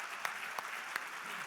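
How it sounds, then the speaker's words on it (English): Steady audience applause at a business summit talk, a dense, even wash of many hands clapping at moderate distance with a few sharper claps standing out. "Let's give Rich Martindale a round of applause."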